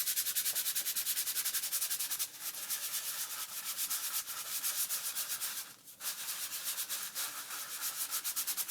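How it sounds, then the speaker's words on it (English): Sandpaper rubbed over the back of an artist's trading card in fast, even back-and-forth strokes, close and continuous, with two brief pauses. "it's kind of harder to sand it when it's all got any type of layers on the other side"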